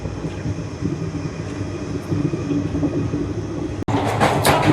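Steady, loud rumble and rattle heard from inside an AC three-tier compartment of the Kolkata–Haldibari Superfast Express while it runs, with a sharp brief cut near the end followed by a brighter, noisier rush.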